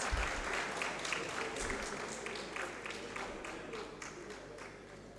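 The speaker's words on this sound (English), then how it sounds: "our chairman, Surveyor Jonathan A. Abose, with an applause, please" Audience clapping at a land surveying division annual seminar, a room full of people applauding together, moderately distant and fairly soft, the claps thinning slightly as it goes on.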